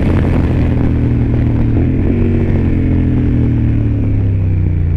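A 2003 Yamaha TDM 900 motorcycle engine runs loud and close, a steady low throbbing drone with a slight shift in pitch partway through, no voices.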